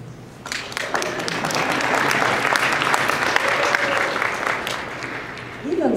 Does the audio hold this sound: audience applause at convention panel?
yes